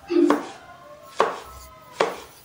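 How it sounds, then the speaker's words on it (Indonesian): Knife slicing thinly through half a tomato on a cutting board, three crisp separate chops about a second apart, close and clear with no talking. "Kita iris tipis-tipis."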